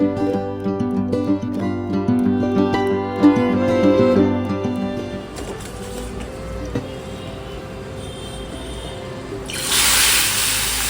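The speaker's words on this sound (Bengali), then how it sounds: "জলটাকে আমি ঝরিয়ে নিলাম।" Water from steamed jackfruit is poured off. A loud gush of draining liquid bursts in near the end, after a stretch of tonal background with no water sound.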